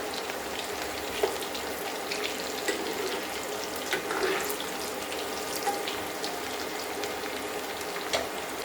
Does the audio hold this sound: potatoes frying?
yes